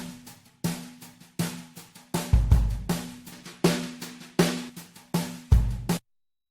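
A drum loop pushed through an extreme matching EQ curve hits in a regular beat, its kicks and snares sounding harsh, boomy and resonant with a ringing tone, then stops abruptly into silence near the end.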